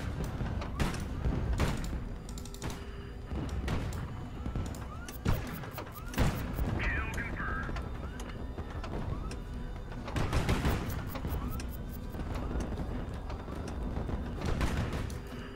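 Huge explosions from 1,000 ton bombs and an artillery barrage in the Highfleet strategy game: heavy, repeated booming thuds and crashes over a dense rumbling battle bed, with clusters of impacts around the middle and later stretches.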